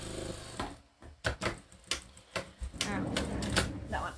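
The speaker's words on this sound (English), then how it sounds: "I'm just going to go and stitch this little doodah down" Jack A6F industrial sewing machine stitching down decoration on a bag, with short bursts of rapid mechanical clatter broken by brief pauses, close up, while a person talks in between.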